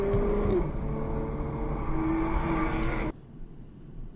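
A Porsche driving in dashcam footage: loud, steady engine and road roar that holds for about three seconds, then cuts off abruptly and leaves faint low noise.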